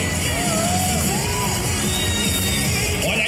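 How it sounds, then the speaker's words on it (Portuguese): A crowd at a children's anime costume parade at the Anime All Stars 2022 event claps and cheers loudly, with whoops and yells rising over a dense, continuous wash of noise. "Uma salva de palmas, Anime All Stars!"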